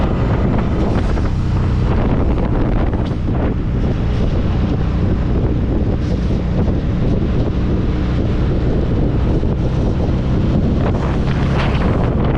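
Heavy, constant wind roar buffets the microphone while riding a Harley-Davidson V-Rod motorcycle at night, loud and unbroken throughout with no voices.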